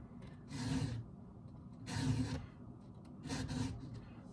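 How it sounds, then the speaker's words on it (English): Hand file rasping back and forth on wood in three separate bursts of strokes, each stroke a close, scratchy rub with short pauses between, outdoors during log cutting and splitting. "Man, I am terrible at filing"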